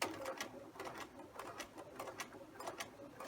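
A sewing machine edge-stitching a square pocket runs in a quick, rhythmic patter of needle strokes, close and fairly quiet, steady for several seconds with no voices.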